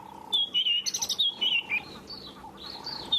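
Robins sing at sunrise on an African safari, several whistled phrases rising and falling in short bursts, moderately faint over a low steady background hum.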